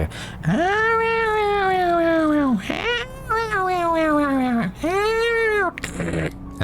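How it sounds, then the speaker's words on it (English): Cats in the video game Bayonetta meow loudly in long, wailing, drawn-out calls, three yowls in a row with brief gaps, close and clear. "the cats who were also fighting for their romantic interests and go running away because they like to do their weird noises"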